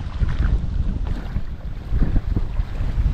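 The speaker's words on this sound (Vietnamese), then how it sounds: "Hôm nay thì trời nó khá là gió nên tiếng nói của mình nó bị ồn á" Strong wind buffeting the microphone at an outdoor fishing spot, a steady low roaring rumble with gusty swells throughout and no voices.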